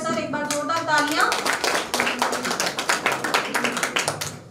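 Audience clapping at a school annual function, a burst of crowd applause under a speaker's voice, with a short musical tone at the start and a few distinct claps fading toward the end.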